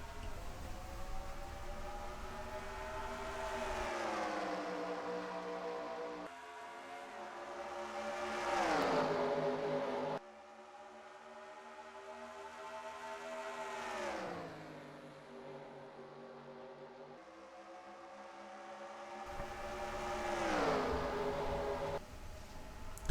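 Stock cars race at Dover in NASCAR Racing 2003, their engines rising and falling in pitch as they roar past and pull away in repeated passes, loud and close, with no talk.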